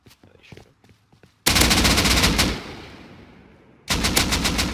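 Gunfire in the survival game Rust: faint scattered clicks and light sounds, then a loud burst of rapid automatic shots that decays away, followed by a second sharp burst at the end.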